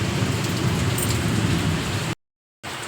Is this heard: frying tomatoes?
no